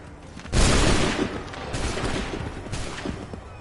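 A musket volley erupts in the Assassin's Creed 3 game as a loud, dense burst of massed gunfire, followed by sustained crackling shots and rumbling that keeps surging and fading over several seconds.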